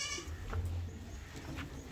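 Goats on a goat farm bleating, a short bleat at the start then low murmuring animal and ambient noise, with faint bleats further off.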